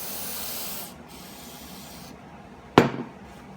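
Spray cleaner hisses over a motorcycle carburetor in a couple of bursts, followed by a sharp, louder spray blast that fades out.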